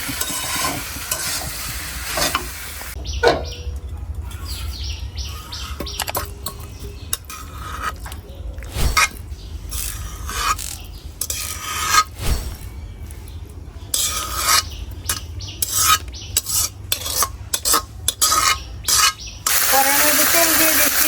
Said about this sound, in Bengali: তেল দিয়ে দিচ্ছি, তেলের মধ্যে জল পড়ছে তার জন্য ফিরতেছে